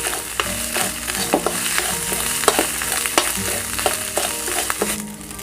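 Red curry paste stir-fries in a hot pan for an apple snail and pickled bamboo shoot dish, giving a steady loud sizzle with scattered scraping and tapping clicks from the stirring throughout.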